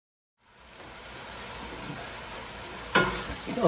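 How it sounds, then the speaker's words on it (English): Onions, garlic and mushrooms sautéing in rendered sausage fat in a pot for a pasta sauce: a steady crackling sizzle rises from silence and keeps going, with louder scraping stirs near the end and no speech. "we'll saute the onions,"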